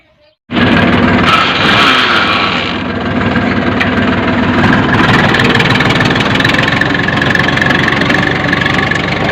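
A tractor engine starts up and runs loudly and steadily while ploughing under load, a dense rumbling drone with a knocking chug that continues throughout.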